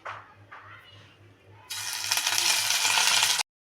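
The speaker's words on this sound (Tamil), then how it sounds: "எண்ணெய் சூடாக இருக்குது. இப்போ நம்ம ஒரு உருண்டையாக எடுத்து போட்டுக்கலாம்." Chicken kola urundai balls hit hot oil in a kadai with a sudden loud sizzle that holds steady and close for over a second, following quieter faint bubbling and a low hum.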